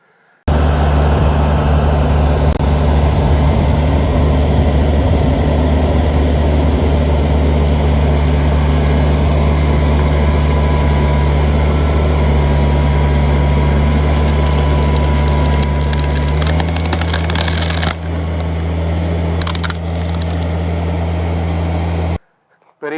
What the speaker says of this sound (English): It's a hydraulic knife, and basically he cuts trees off at the ground.